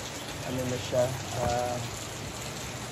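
Rain falls outside a house as a steady, soft hiss of drops, with a person speaking briefly over the continuous wash.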